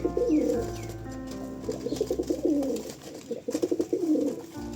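Two pigeons being paired coo close by in repeated soft, throaty bursts, the rolling calls overlapping with faint chirps and no voices.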